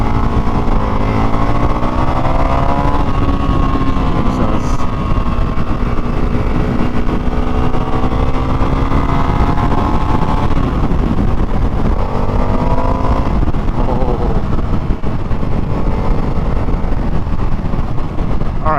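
An Indian FTR motorcycle being ridden, its engine a loud, continuous drone close by whose pitch rises and falls gently as the throttle changes, without pause for the whole stretch.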